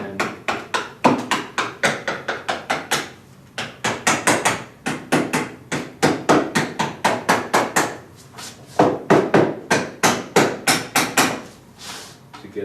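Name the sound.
hammering zinc sheet for countertop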